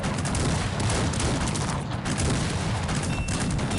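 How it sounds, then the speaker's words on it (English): Cannons in the video game Cossacks 3 fire at mines in a big 2v2 multiplayer battle, a dense, continuous barrage of booms and crackling blasts, loud and unbroken. "Now, I purposely shot these cannons at these mines to kill more of his stuff."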